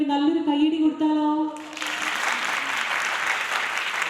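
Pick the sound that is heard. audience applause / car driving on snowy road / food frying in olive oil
audience applause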